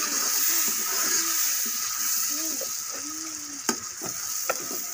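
Chili is stirred into a dish frying in a pan, producing a steady hissing sizzle; a faint murmur sits underneath, and sharp spoon-against-pan clicks come toward the end.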